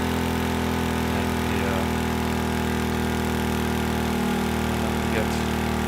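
A modular engine with universal electronic fuel injection idles in the Stormworks game, a steady loud drone with a constant tonal hum and even pulsing, unbroken throughout, with a faint voice briefly underneath.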